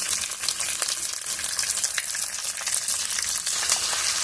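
Ginger and green chili fry in spiced oil with cumin in a pan for a spicy paneer dish, a close, steady crackling sizzle with occasional stirring, no talk.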